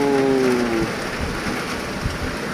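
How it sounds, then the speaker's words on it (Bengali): Heavy rain with big drops falls in Kolkata as a steady, loud, dense patter, alone with no voices. "স্বস্তিদার বৃষ্টি।"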